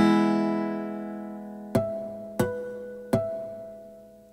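A Yamaha PSR-E473 keyboard's steel guitar voice with super articulation: a ringing chord decays, then three plucked notes follow at an even pace, each sustaining brightly, close and clean with no voices.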